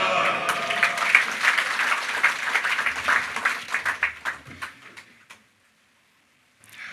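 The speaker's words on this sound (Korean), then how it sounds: "할렐루야로 하나님께 영광을 돌리며 큰 박수로 맞이하겠습니다" A church congregation at a morning prayer meeting applauds loudly for several seconds, the clapping thinning out and stopping before a brief pause.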